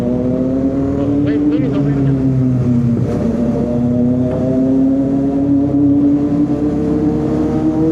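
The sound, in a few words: inline-three Kawasaki Z650 motorcycle engine riding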